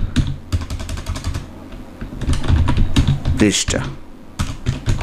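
Rapid clusters of keystrokes clatter on a computer keyboard while a homework diary entry is filled in, close and fairly loud, under someone speaking.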